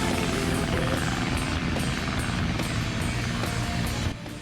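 A steady, loud plane engine drones in the Sonic Adventure video game, a continuous whirring roar that drops off sharply near the end.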